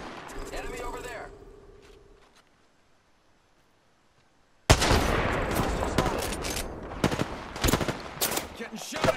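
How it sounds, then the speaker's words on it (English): Enemy gunfire in a video game, a sudden loud burst of rapid automatic shots and scattered cracks after a quiet pause, continuing in jagged volleys, with players talking over the action. "Getting shot at. Where am I getting shot from?"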